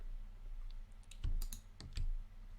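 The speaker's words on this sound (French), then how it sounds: "on se log avec le mot de passe qu'on a indiqué" Password typed on a computer keyboard during login to a web interface, a sparse run of quiet key clicks with a few louder taps, alone with no talk.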